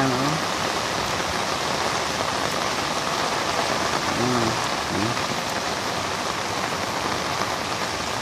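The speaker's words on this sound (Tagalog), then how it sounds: "Grabe ang lakas ng ulan." Heavy rain pours down steadily in a dense, loud roar on surfaces during a flooding storm, with faint voices barely audible under the downpour.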